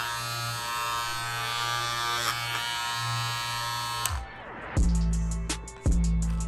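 Babyliss Custom FX hair clippers fitted with a Tomb45 upgrade kit switch on after a low hum and run with a loud, steady buzz, briefly cut off once and restarted.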